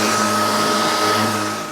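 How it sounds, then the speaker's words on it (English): An electric sander works lightly across MDF with no pressure applied, making a steady close whirring hum that eases slightly toward the end. "just allowing the sander to do the work"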